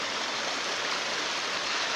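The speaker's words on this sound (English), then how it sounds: "This is what we call Tancak Tulis waterfall in Tanggul village, Jember, Indonesia." Tancak Tulis waterfall in Tanggul village, Jember, Indonesia, pours with a steady, loud, hissing rush of falling water that holds constant throughout, with no voices.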